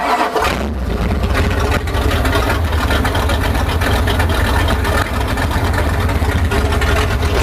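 A 327 cubic inch small-block V8 engine in a Dodge Ramcharger runs loudly and steadily close by, with a deep, even rumble and no voices over it.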